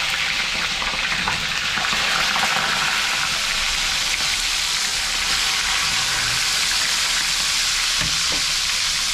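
Food frying in a pan for a Filipino home-cooked dish crackles and sizzles loudly and continuously, with stirring scrapes under the dense hiss.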